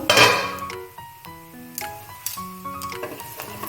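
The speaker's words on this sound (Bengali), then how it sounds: "পাঁচ মিনিট হয়ে গেছে আমি এবার ঢাকাটা খুলে দেখে নেব" Metal pot lid lifted off a pot of basanti pulao on a low flame, a clanking scrape and a few bright ringing clinks of metal, close and fairly quiet, with soft kitchen movement afterward.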